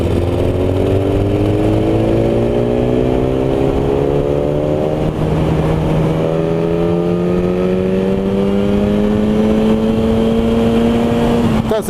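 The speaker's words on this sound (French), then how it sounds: "Je me mets en 6. Vas-y, tu mets gaz à fond." A BMW S1000RR HP4 sport motorcycle pulls hard at full throttle in sixth gear on a country road, its close, loud engine note climbing steadily in pitch for twelve seconds over wind rush.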